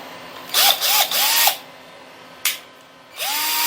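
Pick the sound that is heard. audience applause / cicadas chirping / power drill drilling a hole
power drill drilling a hole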